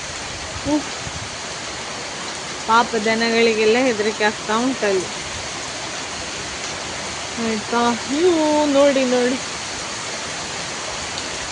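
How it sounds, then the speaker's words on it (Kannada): Steady rush of heavy, wind-driven rain fills the background while someone talks intermittently over it. "ಓರೆ ಓರೆ ನೋಡಿ ಮಳೆ ಹನಿ ಹಾರದು"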